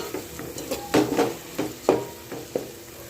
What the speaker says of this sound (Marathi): छान असं तेल येईपर्यंत आपल्याला कमी गॅसवर भरायचं छान परतून घ्यायचा हा मसाला